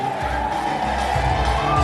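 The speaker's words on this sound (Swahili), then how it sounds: "pigie Yesu makofi mengi mengi na vigelegele" A church congregation bursts into applause and celebratory ululation for Jesus at a special service, a dense, loud crowd sound with high trilling voices over the clapping.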